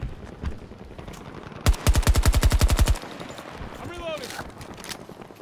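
Rapid automatic gunfire in Battlefield 2042, a burst of about a dozen sharp evenly spaced shots lasting just over a second, loud and close, with game noise and a voice around it.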